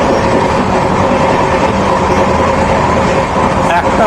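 A passenger train runs steadily, with a dense, continuous roar of wheels and carriage rumble heard from inside, loud and unbroken, on a long daytime journey toward Bikaner.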